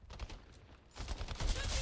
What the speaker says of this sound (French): Quelqu'un me tire dessus.